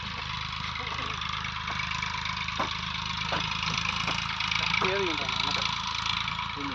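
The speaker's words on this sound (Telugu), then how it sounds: "ట్రాక్టర్తో అయితే దున్నించుకుంటున్నాం." A tractor engine idles and runs with a steady low drone while ploughing a mango orchard, faint and continuous, with a voice speaking intermittently over it.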